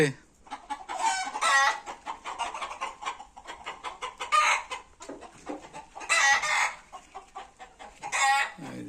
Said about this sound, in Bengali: এটা তো মুরগি